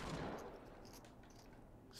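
A hand cannon fires in LEGO Fortnite: a heavy, loud gunshot burst at the very start, trailing into a steady wash of noise for the rest of the moment.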